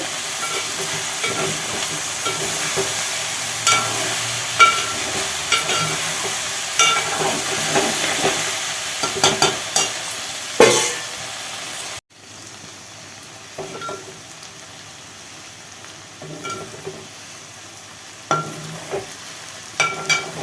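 Okra sizzles hard in a pan, a loud continuous hiss with repeated scraping stir strokes; partway through the frying drops sharply quieter, then carries on with scattered scrapes and crackles.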